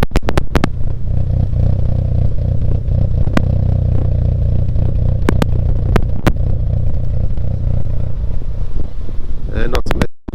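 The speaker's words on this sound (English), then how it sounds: "It sounds like the exhaust has definitely changed its note. It's a little bit louder, a little bit more crisp." A car with a Toyota 3SGE engine fitted with Kelford 262° cams idles through a louder, crisper exhaust, giving a steady, lumpy low rumble up close. Sharp clicks and clatter break in now and then, and the sound cuts off abruptly at the end.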